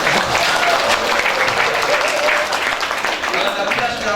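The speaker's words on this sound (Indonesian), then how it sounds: "Kasih tepuk tangan dulu." Loud, sustained applause from a crowd, dense clapping filling the whole stretch without a break.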